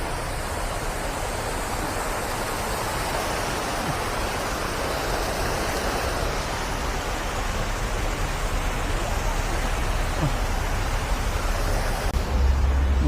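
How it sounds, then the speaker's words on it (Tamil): Artificial waterfall at Merdeka Square, Kuala Lumpur, producing a steady, loud, broadband rush of falling water that fills the scene without pause from start to finish. "இங்கே வாட்டர் ஃபால்ஸ் மாதிரி செட் பண்ணியிருக்காங்க. என்ன சவுண்டு கேட்குது, செம்ம சவுண்டாக இருக்குங்க."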